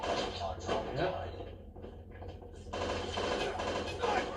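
Rapid bursts of gunfire from a mobile shooter video game play steadily through the clip, loud and continuous beneath a thick layer of game audio.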